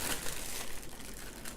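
A plastic bag handled while making sauerkraut and fermented vegetables, soft crinkling and rustling in a few short bursts, quiet and close.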